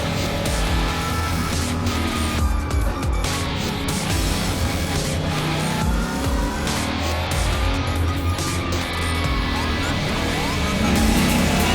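A 2019 Ford Mustang GT4 race car lapping a track, heard from inside as a loud, continuous engine drone that rises and falls through gear changes, with tire noise and brief muffled voices.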